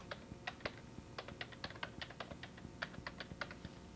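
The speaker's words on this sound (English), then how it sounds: "So we'll type that in our address bar" Keys clatter on a computer keyboard from the early 1990s as an address is entered, a quick, irregular run of close, crisp clicks that continues steadily with no speech over it.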